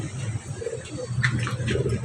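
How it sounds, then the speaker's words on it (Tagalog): Racing pigeons from a club loft coo softly in a low, steady murmur, with a few brief higher chirps and rustles over about two seconds, close by and without talk. "ang mga kalapati ng buong MMFC"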